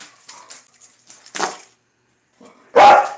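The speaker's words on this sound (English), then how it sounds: "I better get going because she's barking." A dog gives a few sharp barks, one near the middle and a louder, closer one at the end, separated by quiet pauses with faint softer sounds.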